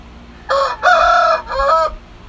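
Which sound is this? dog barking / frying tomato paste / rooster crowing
rooster crowing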